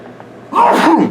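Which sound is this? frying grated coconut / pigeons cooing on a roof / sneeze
sneeze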